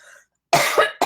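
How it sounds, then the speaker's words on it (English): An asthmatic cough up close, loud: a harsh double burst followed by the start of a third, after a moment of faint background sound. "my asthma's coughing's kicking up a little bit tonight"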